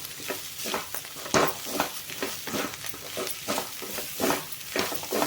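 Bitter gourd sizzles and crackles in hot oil, with irregular scraping bursts from stirring throughout. The frying is steady and close.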